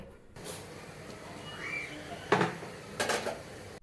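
Boiled pumpkin greens are stirred in a pot, soft rustling under quiet background, broken by two louder clanks of a spoon against the pot.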